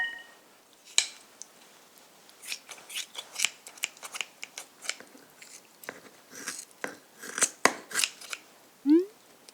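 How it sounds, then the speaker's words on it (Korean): Kitchen scissors snip through the head of a small raw octopus (nakji) being cleaned for glass noodle naengchae, a quick series of crisp, close cuts in an irregular rhythm with short pauses between. "이렇게 머리를 가위로 잘라서 하면"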